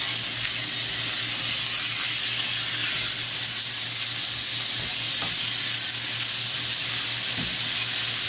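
Ground turkey sizzles loudly in a hot pan as it is broken up, a dense, continuous frying hiss with faint stirring scrapes underneath and no voices.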